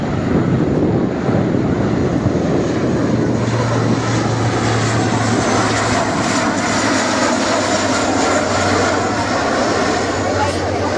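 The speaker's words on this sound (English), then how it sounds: "The Royal Air Force's newest advanced jet trainer." The Royal Air Force's newest advanced jet trainer flies past at the RAF Cosford Airshow, a loud, continuous engine roar lasting throughout while a commentator talks over it.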